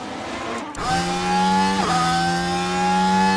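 A Formula 1 race car exits the pits during the 2028 British sprint weekend in the video game F1 Manager 24, its engine holding a loud, steady harmonic drone with a brief pitch dip midway, no talk.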